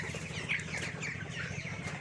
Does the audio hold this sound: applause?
no